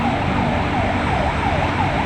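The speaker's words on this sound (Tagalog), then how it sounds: "ambulansya o oh, katulad nyan" An ambulance siren wails in a steady rising and falling pattern over continuous road traffic noise, loud and close throughout.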